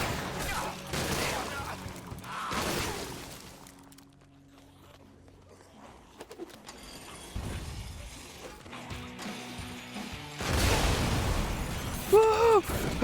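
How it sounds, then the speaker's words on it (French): Red barrels explode in the video game Sunset Overdrive, with several sharp blasts and crashes spread through a stretch of game noise, footsteps and a voice. "Explosion!"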